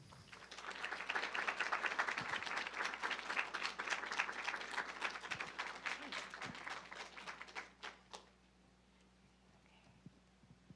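An audience at a climate talk on framing by women and indigenous peoples claps steadily for about eight seconds to welcome a speaker, then the applause trails off into a quiet room with a few last claps.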